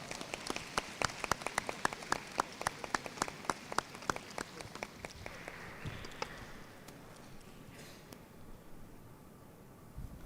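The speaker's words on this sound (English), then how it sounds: "Please welcome him with a big round of applause." An audience at the Science Castle Asia 2025 science conference gives a keynote speaker a round of applause: crisp, scattered claps at a distance that thin out and fade to near silence.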